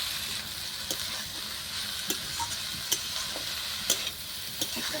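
Saag sizzles steadily in a pan on a clay stove as it fries with the lid lifted on and off. A continuous hiss runs throughout, punctuated by regular light taps of stirring.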